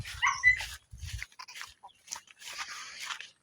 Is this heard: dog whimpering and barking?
yes